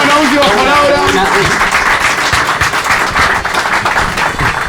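Applause for a metal band at a bar breaks out as a voice trails off at the start, then dense crowd clapping continues steadily to the end.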